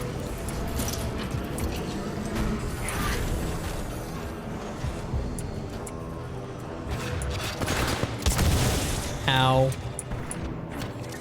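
Enemy explosions and gunfire in the sci-fi shooter Titanfall 2, a dense run of bangs and bursts across the whole stretch with one sharp louder blast near the end, under a brief pained exclamation.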